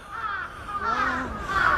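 Crows near Osaka Castle in Japan caw in a harsh, rasping series of calls, close and loud over faint outdoor background.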